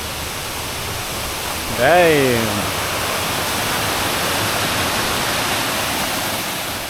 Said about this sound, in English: That's a big ass waterfall.